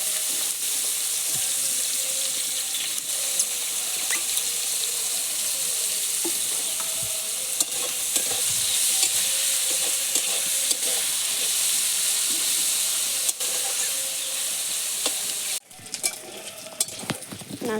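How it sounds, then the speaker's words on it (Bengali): Small chuno fish fry in hot oil with a steady, close hiss and crackle that runs continuously before suddenly dropping off near the end. "তেলটা গরম হয়ে গেছে, এবার আমি চুনো মাছটা ভেজে নেব।"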